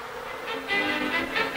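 Bees buzzing in flight, a close, steady insect drone that swells and pulses slightly as the wings pass, heard alone without talk.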